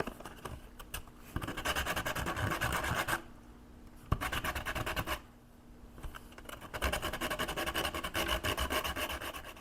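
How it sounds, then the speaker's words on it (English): Hand sanding with 120-grit sandpaper on a thrifted globe being made into a light-up pumpkin: close, rapid back-and-forth rasping in three bursts separated by short pauses, with no talk. "This is some 120 sandpaper."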